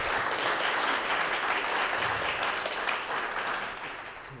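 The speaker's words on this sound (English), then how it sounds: "Let's welcome Cynthia with a round of applause." An audience at an artist talk applauds steadily, a dense roar of clapping that holds for several seconds before gradually tapering off.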